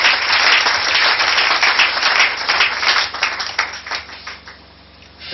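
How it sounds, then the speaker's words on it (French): A church congregation at prayer applauds loudly for the Lord, a dense wash of clapping and cheering that holds strong, then thins and fades near the end. "Acclamez très fort pour le Seigneur."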